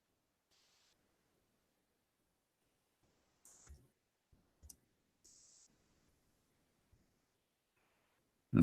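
Computer keyboard typing in a quiet room, a few short bursts of clicking keystrokes with gaps of silence between them, fairly faint and close, with no talking.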